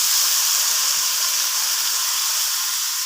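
Bean sprouts hiss and sizzle loudly in a hot pan with tofu and pork, a dense, steady frying noise with no breaks.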